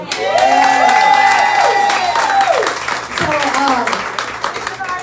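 Applause from an audience at a live podcast event in a venue, loud and sustained with some cheering, while a voice talks over it.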